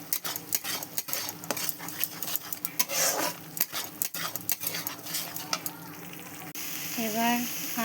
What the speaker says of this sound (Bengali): এতে নুন, হলুদ, জিরে, ধনে, লঙ্কার গুঁড়ো দিয়ে এবার এতে কষিয়ে নেব ভালো করে